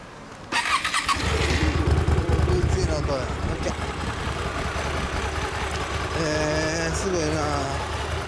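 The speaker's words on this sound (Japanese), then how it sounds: "エンジン音聞かせてもらえますか？" A 2008 Hyosung GT250 motorcycle engine starts up and settles into a steady, loud idle with a deep low rumble close by, and people talk briefly over it.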